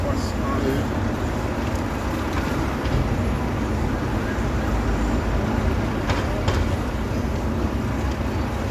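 Steady, loud rumble of a moving bus heard from inside, a constant broadband drone with low engine noise and occasional faint clanks, continuous throughout.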